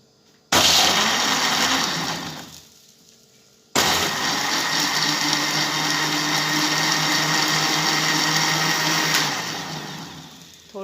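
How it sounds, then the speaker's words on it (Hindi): A kitchen blender whirs loudly through a strawberry and banana milkshake with milk and sugar, running in two bursts with a brief quieter gap between them, then winding down at the end. "अब हम इसे ब्लेंड करके आपको दिखाते हैं"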